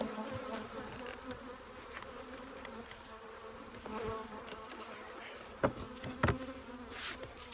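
Honeybees from a swarm caught out of a tree buzz steadily around their hive, a dense continuous hum up close with occasional louder passes of individual bees and a few small knocks.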